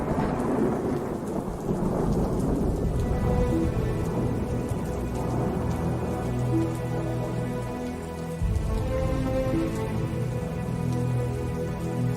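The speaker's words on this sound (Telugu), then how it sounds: "వాన తగ్గేలా లేదు." Heavy rain pours steadily while deep thunder rumbles and rolls, loud and close throughout, with no voices.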